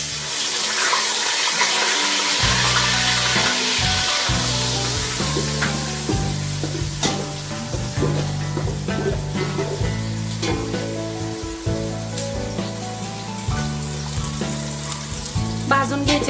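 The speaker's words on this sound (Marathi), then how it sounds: "भाजून घ्यायचे आहे कांदा पेस्टही." Onion paste frying in hot oil in a pot, a loud, steady sizzle that carries on without a break, with low tonal background music underneath and no speech.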